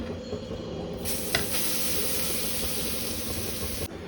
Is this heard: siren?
no